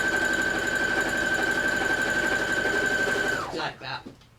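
A sewing machine runs steadily as it stitches a quilt block, a dense rapid whir with a steady whine held for about three and a half seconds, then it slows and stops.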